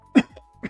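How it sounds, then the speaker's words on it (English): A single sharp, close cough is followed by a softer second cough a moment later, heard alone with no talking. "already coughing in this video"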